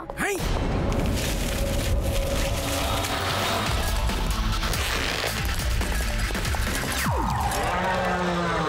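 A dangerous bull in an animated cartoon fight bellows loudly amid dense crashes, booms and smashing effects, with short bursts of voice mixed in.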